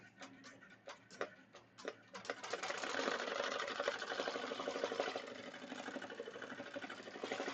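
Melco embroidery machine stitching lettering onto the side of a hat held in a hat back clamp, starting with a few separate needle taps and then settling into a steady, fast, rattling stitch rhythm, moderately loud and close.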